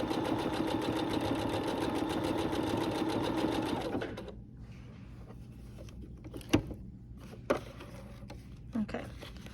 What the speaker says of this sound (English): test out what the decorative stitch looks like and if the settings are correct to make it look good